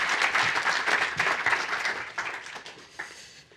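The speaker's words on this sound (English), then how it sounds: "let's have a round of applause" An audience at an architecture talk applauds to welcome a speaker from Zaha Hadid Architects, a dense burst of clapping that starts strong and gradually thins out and fades.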